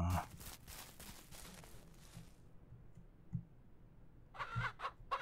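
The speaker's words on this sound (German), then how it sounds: "reg dich auf, reg dich auf, kleines Huhn" Agitated chickens cluck in the Ranch Simulator video game, with a burst of clucking at the start and a second louder flurry near the end, separated by quieter rustling and soft thumps.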